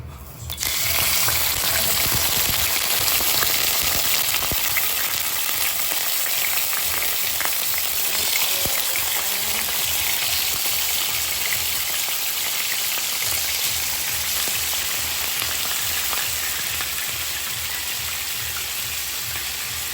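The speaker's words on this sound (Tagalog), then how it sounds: "ipiprito na natin yung ating pork chop" Pork chop frying in cooking oil for a home lunch, a loud continuous crackling sizzle close up that holds steady from start to finish with no talk.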